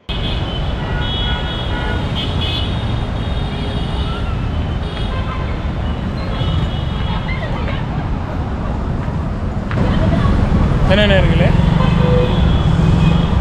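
Steady road traffic at the Vijaya Nagar bus stand in Velachery, with engines and occasional horn toots. A voice speaks over the continuous traffic wash, and the noise swells louder toward the end.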